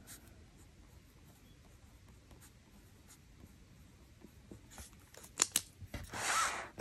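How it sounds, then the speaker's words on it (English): A pen scratches across paper in a Hobonichi Cousin planner, faint and close at first, then louder quick strokes and rustling toward the end, with no talking. "I'm just gonna write the first 2 words"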